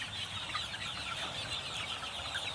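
Chickens cluck softly while pecking at larvae, a low busy murmur of fowl over steady background noise.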